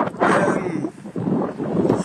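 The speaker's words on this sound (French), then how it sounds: "il y a un vent à décorner les cocus derrière" Strong wind buffets the microphone outdoors at a train station, a continuous broadband roar that swells and dips in gusts for about two seconds with no clear speech over it.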